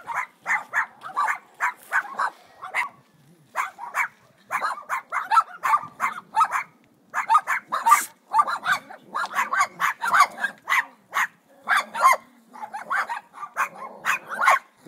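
Many dogs bark together in rapid, overlapping bursts, loud and close, with short pauses between volleys across the whole stretch.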